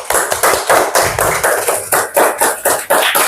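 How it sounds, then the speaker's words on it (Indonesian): Schoolchildren in a classroom clap in unison, about a dozen loud, close, evenly spaced claps in a steady rhythm. "Kita tepuk tangan buat semuanya"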